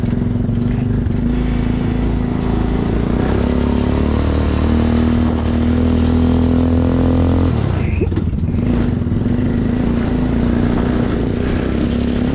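Vehicle engine with taller gearing on a test ride, loud and close, droning steadily as it pulls through the gears, with a pitch change near the middle and wind rumble throughout, while people talk faintly.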